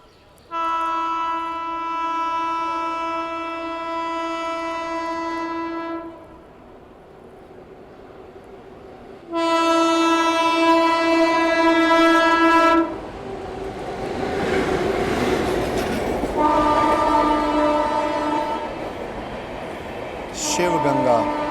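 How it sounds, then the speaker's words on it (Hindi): Train passing to overtake near Tundla on a New Delhi-Howrah route, with loud, sustained horn blasts sounding twice and a rumbling, rattling pass-by between them, heard close from a train. "अब ये फिर से कोई ट्रेन आ रही है ओवरटेक करने।"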